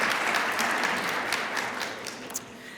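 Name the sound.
audience applause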